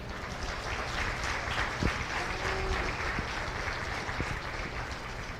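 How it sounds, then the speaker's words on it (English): Ringside spectators at the Montgomery County Fair cattle show applaud four young cattle exhibitors, a fairly soft, steady patter of clapping from a modest outdoor crowd, with a few sharper knocks mixed in. "Big round of applause for all four of them."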